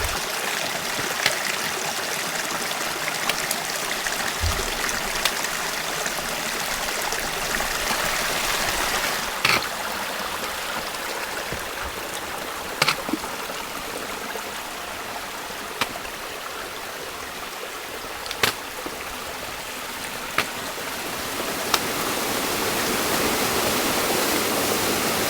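A mountain stream rushes steadily beside a snowy hiking trail in the White Mountains, a continuous broad watery roar close by, with a few faint clicks and footstep-like knocks over the flow.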